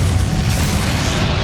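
A Bombarda exploding spell goes off in Hogwarts Legacy, a loud, dense boom with a heavy low rumble that fills the whole moment without a break, set in a magical combat scene.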